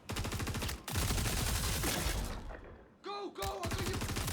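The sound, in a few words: gunfire from a mid gun in video game Star Citizen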